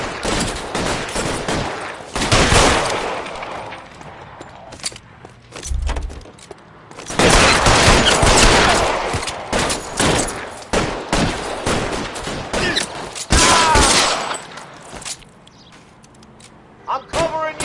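Bursts of video game gunfire in a PS4 shooter, with heavy fusillades and machine-gun volleys clustered in loud waves, some thuds between them, and voices talking over the battle.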